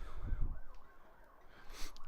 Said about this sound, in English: We have heard 4 series of sirens today since we arrived at Riverton High School.